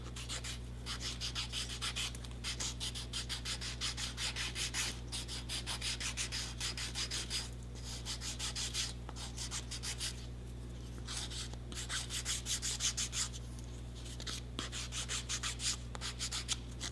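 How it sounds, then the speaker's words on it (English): Cardboard edges are being sanded by hand for an earring craft piece, making a close, rhythmic scratchy rubbing in repeated strokes with short pauses, over a steady low hum and no talking. "there's a lot hanging over, so I'm going to sand it down. It's just cardboard, so it sands very easily."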